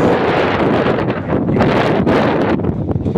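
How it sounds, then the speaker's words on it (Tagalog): Heavy wind buffeting a microphone at a precast concrete yard in Santa Rosa, Laguna, a loud continuous rumbling roar with gusty surges and no voices. "medyo malakas ang hangin dito sa ating kinalalagyan ngayon"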